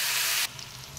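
Pointed gourd seeds frying in hot oil for a potol dorma, a loud broadband sizzle that drops sharply halfway through to a softer steady hiss with faint crackles.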